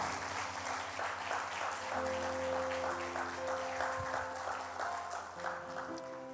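Church congregation clapping in praise during a sermon, a steady wash of applause that carries on throughout, with sustained organ-like or keyboard tones underneath.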